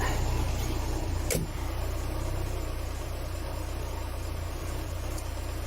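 A rusty Citroen BX idles with its hydraulic suspension pump running. The engine holds a steady low drone under a faint motor whine, with one sharp click early on and no voices.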